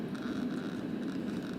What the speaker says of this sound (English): We're gonna put some white noise so he doesn't think we forgot about him.